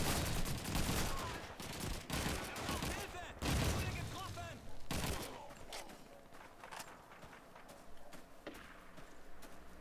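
Gunfire from the World War II shooter Call of Duty 2: dense bursts of rifle and machine-gun fire crackle close by at first, then thin into scattered, more distant shots.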